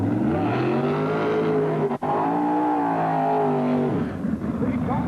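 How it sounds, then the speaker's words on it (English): Two drag racing cars at York do burnouts, their engines holding a loud, strong drone with a brief cut near the two-second mark before the roar tapers off. A voice may be talking over it. "Two strong burnouts there."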